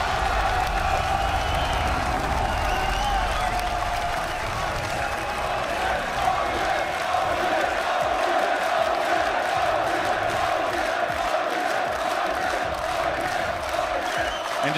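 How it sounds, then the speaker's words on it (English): A large arena crowd at the 2015 League of Legends World Championship group stage roars and cheers continuously, with clapping and whoops in a steady, loud wash of sound. "And just hear that crowd roar for some of their hometown favorites."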